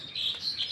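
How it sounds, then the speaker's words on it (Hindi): Short high-pitched chirping pigeon calls, two bright tweets close together, clear and fairly near with no talk. "ये मेरे पास कबूतर है"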